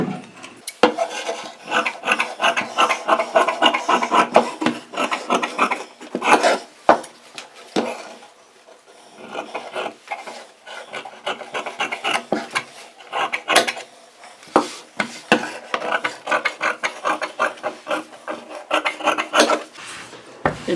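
Scissors cut through blouse fabric in repeated close snips and rasping strokes, irregular and intermittent, with brief pauses and no talking.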